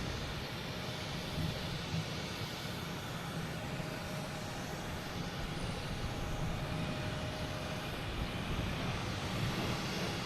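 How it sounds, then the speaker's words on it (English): A Delta Airbus A321neo takes off at Boston Logan, its engines making a steady, broadband roar that holds at even strength throughout with no talking. "Next taking off is Delta, heading to San Diego,"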